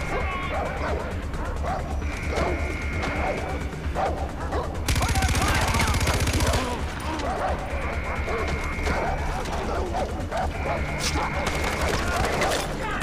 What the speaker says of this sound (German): Hä, von wo schießen die denn?